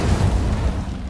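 A fiery Incendio spell blast in Hogwarts Legacy: a dense, loud, rumbling burst of flame that roars steadily for about a second, heavy in the low end, with no talk over it.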